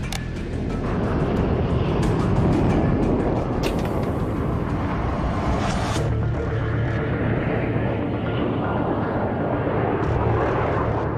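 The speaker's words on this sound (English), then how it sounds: "Withers starts refueling with the Victors. It's the first of 4 contacts over the 8-hour journey to the Falklands." A Vulcan bomber refuels in flight from a Victor tanker on the long flight to the Falklands, heard as a loud, continuous roaring jet engine wash that stays steady and close throughout.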